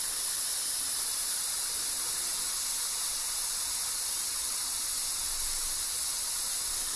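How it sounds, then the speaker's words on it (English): Compressed air hissing steadily from a spray gun fed at 2 bar by a shop compressor, a continuous even rush with no pauses and no talking. "So all I'll do is pull the trigger and put it on."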